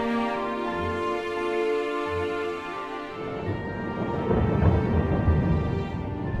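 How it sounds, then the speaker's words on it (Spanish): Thunder rumbling with heavy rain in the Tehuacán valley of Puebla, a dense steady roar that swells louder in the second half, with no voices over it. "es un espectáculo todo lo que estamos escuchando, los sonidos de los truenos, los relámpagos"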